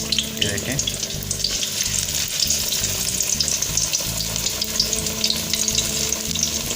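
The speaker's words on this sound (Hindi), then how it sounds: "तो ये चारों पीसों को हम इसी तरह डिप करके बेसन के मिक्सचर के साथ फिर हम इसको फ्राई कर लेंगे।" Potato slices dipped in gram flour batter crackle and bubble in hot oil as pakoras fry, a dense continuous sizzle with faint stirring, and a brief spoken remark.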